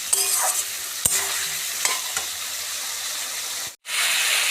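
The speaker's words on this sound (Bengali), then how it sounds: "আমি এবার অল্প একটু জল দেবো আবার কষবো" Soaked soybean pieces with fried potatoes sauté in a pan for a vegetarian curry, a steady close hiss broken by a few scraping strokes of a spatula, ending in a brief hush before the sizzle resumes.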